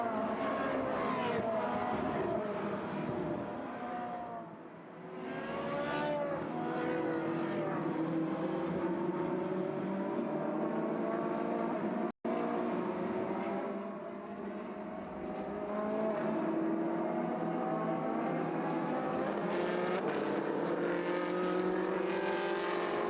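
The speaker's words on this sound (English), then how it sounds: "So the cars weave from side to side to try and put some temperature into the Pirelli tyres" Ferrari Challenge race cars on a Pirelli-shod formation lap at Paul Ricard weave along, their engines droning in layered, shifting tones that swell and fade as cars pass, with a brief dropout midway.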